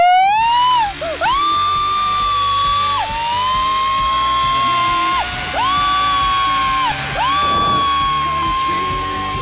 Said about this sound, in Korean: 밀림 속에 제 비명이 울려 퍼집니다.